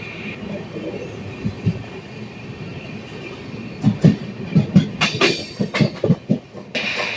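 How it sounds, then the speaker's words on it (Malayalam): Leaving Mavelikkara station, the Ernakulam–Velankanni Express moves at low speed, a soft rumble building into a run of rhythmic wheel clacks and rattles heard from inside a second-class coach. "ഇതിലെ വലിയ സ്പീഡിലൊന്നുമില്ല ട്രെയിൻ പോകുന്നത്"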